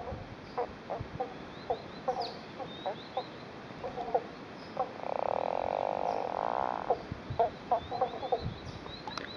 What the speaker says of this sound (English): They're beautifully coloured frogs.